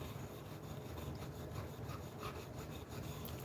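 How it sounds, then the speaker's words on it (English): Burr being removed from the back of a blade on a sharpening stone, a steady, soft rasping rub repeated in short strokes, close and quiet with no voices. "all we're doing is getting that little burr off the back"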